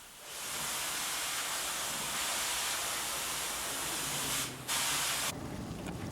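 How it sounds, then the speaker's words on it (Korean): An aerosol spray can paints the inside of a dark, sealed enclosure deep inside a site, producing a loud, steady hiss that runs almost continuously, with a brief break before it resumes, and no talking. "한 사람이 스프레이로 칠을 뿌리면은"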